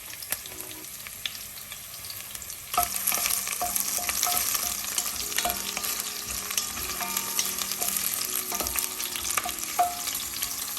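Chopped onion sizzles and fries in hot vegetable oil in a pan, a steady crackling hiss that grows louder a few seconds in, with occasional stirring scrapes and no talking.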